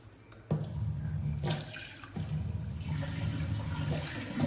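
Water gushes steadily from a household tap, a continuous close hiss and splash that starts abruptly and runs on with slight shifts in flow.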